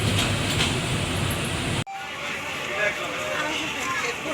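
Inside a train travelling from Kishoreganj to Dhaka, a loud steady rumble of wheels and carriage noise fills the ride, with a sudden sharp drop in the roar partway through before the rumble continues.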